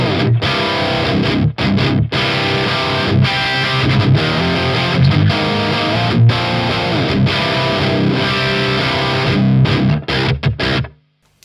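Jet City JCA22H guitar amp on its overdrive channel with the noise gate engaged, churning out loud, continuous distorted riffing with brief gated gaps before cutting off abruptly near the end.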